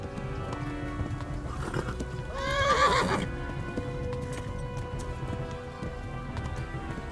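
A horse gallops with steady clip-clop hoofbeats and lets out a loud neigh partway through, in the medieval video game Kingdom Come: Deliverance, with faint rain-like background noise.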